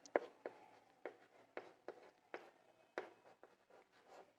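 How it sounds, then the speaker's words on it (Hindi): Pen strokes on paper while writing the letters DNA by hand: a quiet, close series of short scratchy taps and strokes at a steady, irregular rhythm, with no talk. "डीएनए का नाम मैं लिख सकती हूँ यहाँ पर"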